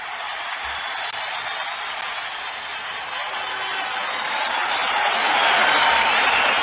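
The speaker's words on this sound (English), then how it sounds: "All right, enough of the applause." Sustained crowd applause from a recorded Boston Red Sox ballpark introduction, a dense steady wash of clapping and cheering that swells slightly louder toward the end, with no voices over it.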